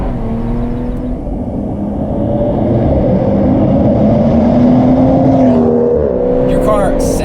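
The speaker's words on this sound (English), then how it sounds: "It's got a deeper sound than I've heard from a lot of BMWs" Modified 2018 BMW 340i engine running with a deep, steady drone that swells slightly as revs rise, heard up close, with a person talking over it.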